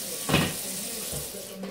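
Tap water pours into a pot for cooking ramen, a soft continuous splashing rush with a brief louder gush near the start.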